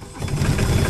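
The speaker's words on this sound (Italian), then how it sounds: "questo è il rumore della mia macchina" A car engine turns over and runs, a dense, steady mechanical roar that stays loud and close for the whole second.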